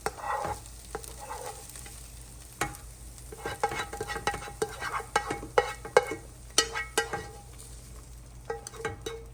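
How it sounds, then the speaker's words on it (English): Onion going into boiling sauerkraut in a pot for fried sauerkraut, with a steady close sizzle and repeated clattering stirs and spoon knocks, no voices. "So now the sauerkraut has just started to boil. We're gonna add to it the onion."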